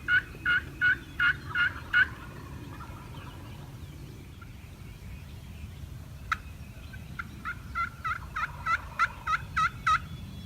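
Wild turkeys gobble in rapid rolling bursts, one series early and another longer run later, carrying over a quiet outdoor hum.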